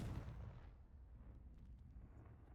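A Confringo blasting spell explodes in Hogwarts Legacy, a deep booming blast that hits at once and rumbles away into a low lingering tail, fairly quiet overall.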